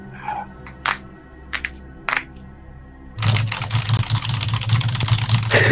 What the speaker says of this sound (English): he's just like typing so fast